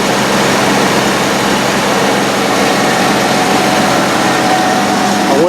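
An old engine that had sat unused for 30 years runs steadily with a loud, continuous low drone and broad mechanical noise filling the whole stretch, with no let-up.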